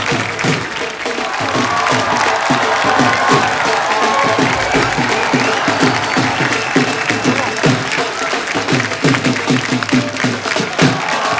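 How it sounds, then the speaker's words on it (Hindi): Loud studio audience applause fills a Kapil Sharma comedy show, a sustained dense wash of clapping with some cheering, steady throughout the clip. "उसके लिए पहले जोरदार तालियां"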